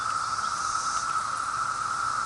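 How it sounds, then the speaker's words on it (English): Cicadas drone in one continuous high, shrill buzz, steady and unbroken, with a faint background hiss and no voices. "You see all the cicadas."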